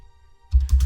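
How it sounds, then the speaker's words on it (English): Keys clatter on a computer keyboard in a brief, close burst of quick typing that starts abruptly after a near-silent pause. "He's typing a letter to Jesus."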